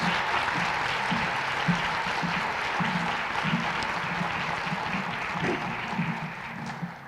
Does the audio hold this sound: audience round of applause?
yes